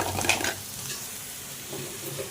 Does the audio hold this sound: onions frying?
yes